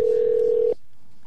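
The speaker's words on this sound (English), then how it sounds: "So it's ringing." A telephone rings out during a call, a single steady electronic ring tone that cuts off abruptly into near silence, loud and clear without voices.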